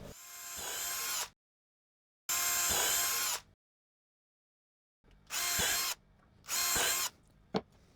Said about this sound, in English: Because this is MDF, if I don't drill these first, like the board will split.